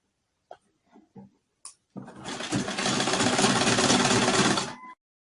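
A sewing machine stitches a blouse, with a few short clicks before a steady, loud mechanical whir that runs for about three seconds and then stops. No one speaks.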